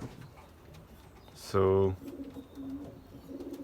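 Racing pigeons coo in a loft, soft throaty calls in the background with one louder burst near the start, as someone speaks briefly.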